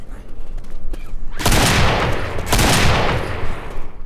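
Gunfire in the Left 4 Dead video game, two loud broadband bursts starting around the middle of the clip, each blasting then trailing off, over steady background game noise.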